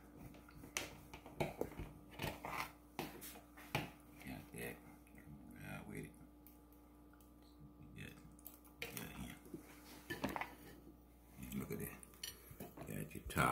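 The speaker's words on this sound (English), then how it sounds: "we cutting into it. Got a saw knife. We're going back and forth." Serrated knife sawing back and forth through a nut-topped sock-it-to-me pound cake, giving soft repeated scraping and clinking strokes close by, with a voice talking between the cuts.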